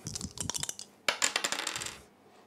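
Dice rattle and clatter across a tabletop in a war board game, with two quick rolls of many small clicks and bounces that settle into silence, close and crisp.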